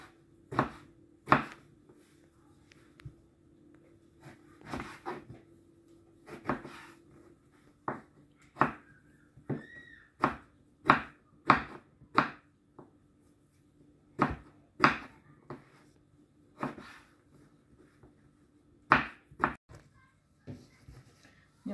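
Eggplant is chopped with a knife on a board, giving sharp, irregular knocks that come singly and in quick runs of two or three. The sounds are close and crisp against a quiet kitchen background.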